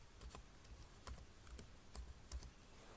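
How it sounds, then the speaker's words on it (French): Close computer keyboard typing: a sparse run of separate key clicks at an irregular pace, crisp and fairly quiet against a soft background hum, with no voice. "Je vais dans la recherche Google,"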